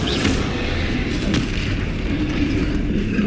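Bombarda spell explosion in Hogwarts Legacy combat, a loud deep boom opening into sustained rumbling debris and roaring battle noise that stays dense and close throughout.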